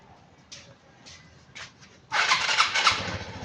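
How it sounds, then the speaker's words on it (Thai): A few brief cranking bursts, then a Suzuki Jelato scooter engine that has trouble starting catches and sputters into a loud, rough idle close by. "ก่อนจบคลิปบีบเบรกสตาร์ทเครื่องครับ"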